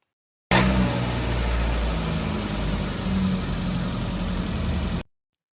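A car engine cranks and runs during a battery cranking test, a loud steady mechanical drone with low rumbling pulses, starting abruptly and cutting off after about four and a half seconds, with no talking.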